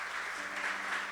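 A church congregation applauding, a brief, steady burst of clapping from many hands, moderately loud and continuous.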